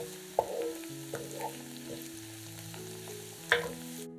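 Mushrooms frying in a pan while being stirred, with a steady soft sizzle and several sharper scrapes or clinks of the utensil against the pan, heard close up and without talk.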